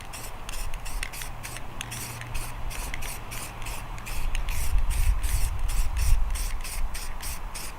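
Green paint sprayed from an aerosol can fitted with a spray-gun style nozzle, heard as a series of hissing bursts that grow fuller and louder partway through, close by, with no voices.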